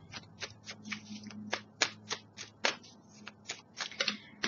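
Oracle cards handled, shuffled and drawn from a deck: a run of crisp, close card flicks and slaps at an irregular rhythm over a faint low hum, with no talking.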